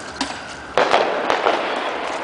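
Fireworks burst on New Year's Eve in a rapid string of sharp pops and crackles. One louder blast breaks out amid the steady crackling, which sounds close and loud.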